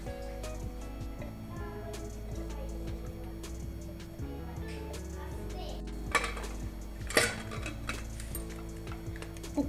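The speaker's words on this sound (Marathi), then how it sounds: "कुकरला झाकण लावून" A metal lid is fitted onto a pressure cooker holding pea rice with added hot water, giving a couple of sharp clanks near the end over a steady low kitchen hum, with no talking.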